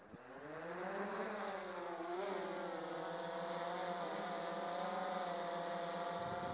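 A DJI S1000 octocopter drone spins up its eight motors and lifts off, giving a rising, droning multi-tone whine that steadies into a continuous buzzing hum nearby.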